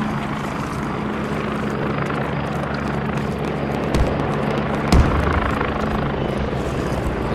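A military helicopter in the video game Squad drones steadily with a low rotor hum throughout, joined by two brief louder thumps near the end; no talking is heard.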